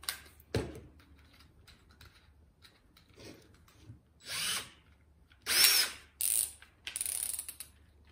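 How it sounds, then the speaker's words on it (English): A cordless electric drill spins a wooden dowel in several short whirring bursts that grow louder and longer toward the end, with quiet handling pauses between them. "So what you need is a piece of dowel and an electric cordless drill."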